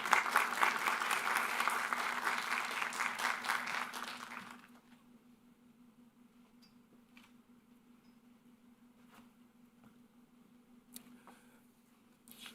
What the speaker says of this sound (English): Let's give a warm round of applause for Dr. Gaskin and Paul Kawada.